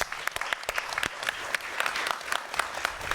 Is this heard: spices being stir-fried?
no